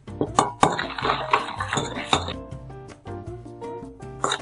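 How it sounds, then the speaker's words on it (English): Spoon scraping and clinking against a mixing bowl while dry ingredients, peanuts and salt are stirred together, a run of quick close metallic knocks and scrapes with brief pauses. "Mix all the dry ingredients well."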